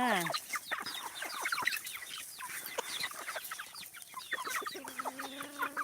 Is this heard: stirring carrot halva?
no